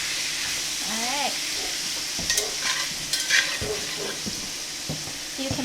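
Cubed pork browning in a pan gives a steady sizzle with scraping and stirring clatter, a few louder utensil knocks near the middle; a voice briefly speaks early on.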